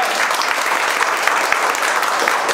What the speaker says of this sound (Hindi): एक बार इनके लिए जोरदार ताली बजती है,